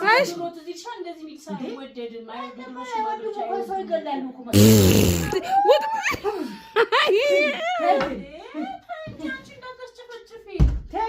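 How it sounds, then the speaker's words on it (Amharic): A single loud fart-like burst cuts in midway through lively family chatter, followed by giggling and laughter from several people, including a child. "ምን ፈስ ነው እንደሱ?"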